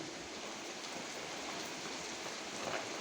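Light drizzle falling outdoors gives a steady, soft, even hiss of fine raindrops, faint and unbroken throughout.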